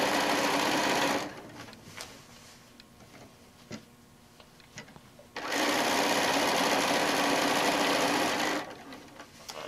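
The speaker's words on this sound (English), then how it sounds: "I'm going to sew right through the quilt tack." A sewing machine stitches through a quilt tack on a fat-quarter quilt, giving two loud sustained runs of rapid stitching separated by a quieter pause with small clicks.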